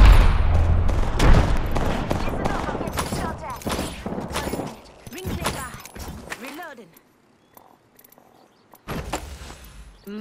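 Rapid gunfire crackles through an Apex Legends match, with dense bursts of shots and impacts near and loud, broken by a short quiet gap and overlapped by in-game voices calling out.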